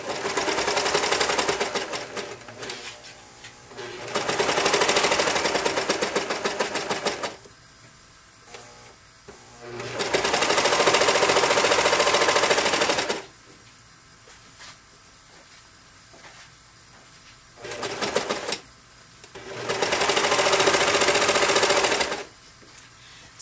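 Sewing machine stitching the band of a scrub cap in several runs of steady, loud mechanical whirring, each a few seconds long, with quiet pauses between them and no talking.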